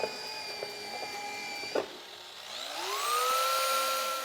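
A rotary polishing pad spins on a pad washer. A few knocks and clatter are followed by a whirring motor whine that rises in pitch and holds steady as the pad spins up.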